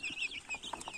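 Naked Neck chicks of a Spanish meat-and-egg cross, about ten days old, give faint, short high cheeps in quick succession for about a second.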